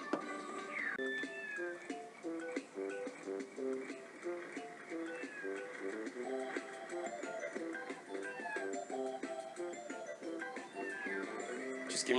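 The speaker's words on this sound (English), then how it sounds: "The little cat, actually, if you can listen carefully, meows every few seconds." A little cat in a video game meowing every few seconds over quirky, busy game music, the short mews recurring quietly against the bouncing tune.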